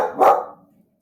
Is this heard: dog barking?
yes